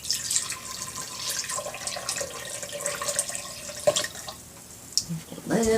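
Water being poured into a jar to make a chamomile herbal infusion, a steady liquid trickle and splash close by, with a voice talking over it.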